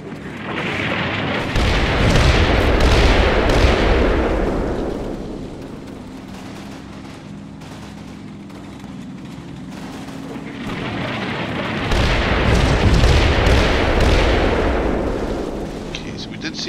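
Artillery fire and explosions from the video game Combat Mission roll in as deep, rumbling booms that swell loudly, fade into a quieter low rumble and then surge again.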